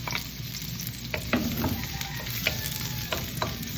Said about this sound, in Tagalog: So ako ay nagigisa. Gisa lang ng konti at pwede nang isunod ang bawang.